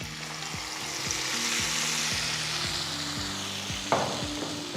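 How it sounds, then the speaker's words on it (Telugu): Dal is poured into a hot tempering of asafoetida and curry leaves on low flame. A steady, fairly loud sizzle and hiss runs throughout, with one sharper splash near the end and no talking. "తాలింపు రెడీ ఫ్లేమ్ లోలో పెట్టి పప్పుని మెల్లిగా దీంట్లో పోసుకుందాం"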